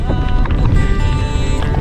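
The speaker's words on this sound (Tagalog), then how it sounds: "Lakas ng ulan, tsaka hangin." Steady roaring wind noise buffets the microphone with a broad rushing wash, likely heavy rain and wind, constant and close throughout.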